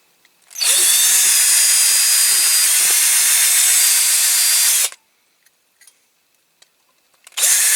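A power drill bores into a Corgi Toys Standard Vanguard die-cast model car during restoration, one loud, steady whine lasting about four seconds, then stopping abruptly, then a few faint clicks, then starting up again at the end.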